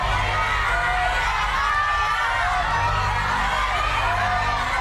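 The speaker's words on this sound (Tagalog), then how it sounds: "Ang sigaw ng bayan!" Studio audience of a Filipino game show shouting and cheering, a loud, dense and continuous roar of many voices with whoops and children's shouts.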